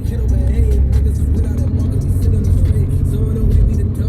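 A car climbs a steep mountain road in Montenegro, passing under cable cars; its engine hums and drones steadily up close for several seconds with road noise underneath.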